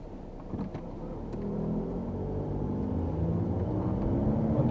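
A car rolls through the village centre of Markt Wachenroth in the Erlangen-Höchstadt district. It gives a faint, low, steady road rumble with a gentle rise in engine tone as it moves along, and no voices.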